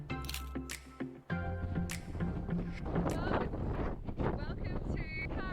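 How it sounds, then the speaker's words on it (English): Strong wind buffets the microphone on a mountain peak on Paros, a rough low roar that rises and falls continuously behind scattered voices. "Up here, it is super windy."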